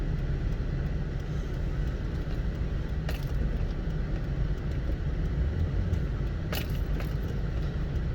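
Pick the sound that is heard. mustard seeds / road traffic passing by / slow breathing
road traffic passing by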